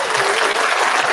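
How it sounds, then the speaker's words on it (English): A brief burst of dense crowd applause, loud and close, a single continuous rush of clapping with no talk heard over it. "Let me give his brother a round of applause."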